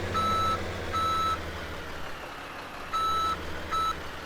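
A truck's reversing alarm in Farming Simulator 17 sounds four steady, evenly spaced beeps over a constant engine drone.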